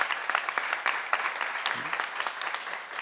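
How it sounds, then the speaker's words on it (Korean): An audience at a church seminar breaking into applause, a busy, crisp patter of many hands clapping at a steady medium level with a few sharper claps standing out. "박수야."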